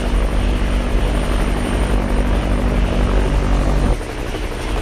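An aeroplane engine in Roblox Mad City drones loud and close with a steady, buzzing hum, then drops slightly in level near the end.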